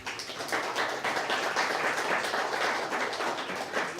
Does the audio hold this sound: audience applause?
yes